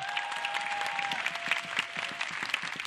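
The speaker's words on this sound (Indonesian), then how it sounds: "Beri tepuk tangan untuk Yono Bakri." Steady applause from a stand-up comedy show audience, dense clapping at an even level throughout, with no voices standing out.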